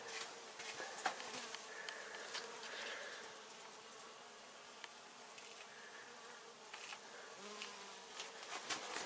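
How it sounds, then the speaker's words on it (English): Dense swarm of honeybees buzzing continuously inside a shed, a steady close hum with many overlapping wingbeats and occasional louder passes near by. "just loaded with our honeybees"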